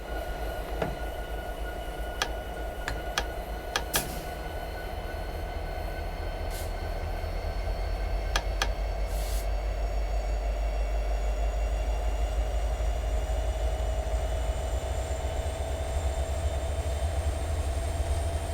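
A locomotive pulling away under throttle power, a steady low engine drone and rail rumble that swells slightly as it gets moving, with a few sharp clicks and metallic ticks early on.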